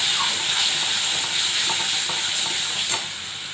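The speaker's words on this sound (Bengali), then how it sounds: "নাড়ছি।" Fish-egg fritter curry being stirred in a pot with tomato, water, salt and turmeric, giving a close, steady sizzle with soft scraping and gentle bubbling that eases off near the end, without voices.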